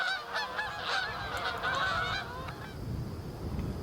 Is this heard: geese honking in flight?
yes